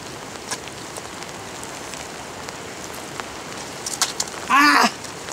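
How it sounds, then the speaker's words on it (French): Steady afternoon rain falls and patters on surfaces with scattered louder drips, and a brief louder splash near the end; no talking. "il pleuvait"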